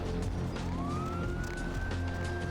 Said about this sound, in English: I think there's like police sirens and cars in the background